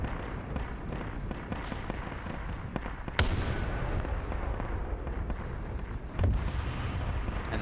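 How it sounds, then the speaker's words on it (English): Heavy cannon and artillery fire in a video game battle with tanks and air bombing, heard as a steady rumbling barrage with sharp booming blasts near 3 seconds and 6 seconds over continuous battle noise. "And the heavy cannons are continuing."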